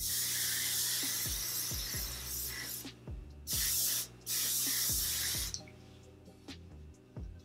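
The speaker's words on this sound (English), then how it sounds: "So now I'm gonna spray some oil sheen" Several sharp bursts of aerosol oil sheen spray hiss close by onto hair, loud and steady, separated by short pauses, with faint clicks and handling noises between them.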